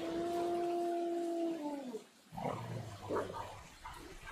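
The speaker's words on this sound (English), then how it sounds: "Hear that dog howling?" A dog in the Fear the Wolves battle royale game gives a sustained tonal howl that bends downward and fades out after about two seconds, followed by quieter rough noises and low voices.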